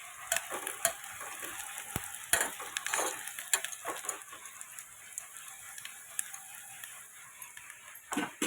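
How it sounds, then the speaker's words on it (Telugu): Onions sizzle in a pan as they fry to brown for semiya upma, with a steady crackling hiss and frequent clattering stirs of a spatula, close and moderately loud throughout. "బాగా బ్రౌన్ కలర్లో వచ్చేటట్టు ఆనియన్స్ ఇలా ఫ్రై చేయాలి."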